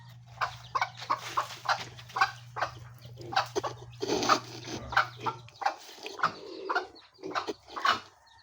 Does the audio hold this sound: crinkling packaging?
no